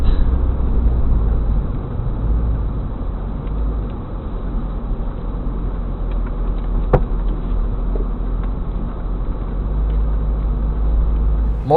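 A 1994 Corvette C4 LT1 Targa cruising on the road, a steady low engine and road rumble heard from inside the car with little change, and one brief sharp tick midway.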